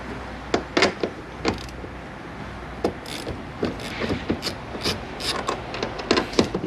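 Ratchet with a 10mm socket loosening tail lamp screws on a 2019 Nissan Altima, giving close, dry mechanical clicks in short irregular bursts, some sharp and some softer, with no talking.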